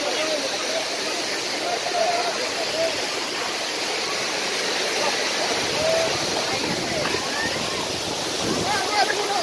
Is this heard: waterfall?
yes